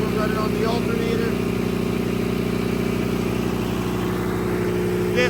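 Emergency backup generator engine at a high school running under a massive motor load during a simulated power outage, a loud steady droning hum with strong low harmonics that stays constant throughout.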